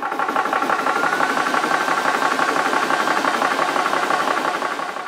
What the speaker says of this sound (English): Hitting the on-off button will start the compressor.